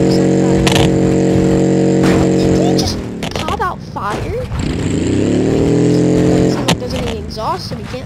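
Old car's small engine in BeamNG.drive buzzing like a dirt bike, a steady loud drone that drops off, then climbs and revs again with rising pitch, while a person talks over it.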